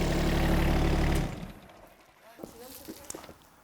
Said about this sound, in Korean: 아주 엔진이 부드러워졌습니다.